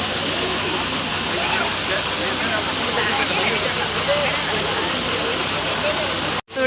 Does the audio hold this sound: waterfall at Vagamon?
yes